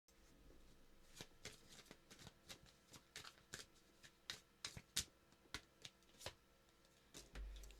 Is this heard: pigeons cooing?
no